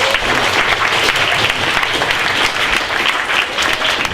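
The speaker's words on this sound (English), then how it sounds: "Can we have a round of applause for this team?" Loud, sustained applause from an audience at a youth hackathon show-and-tell, a dense continuous clatter of many hands cheering a team, with no talking over it.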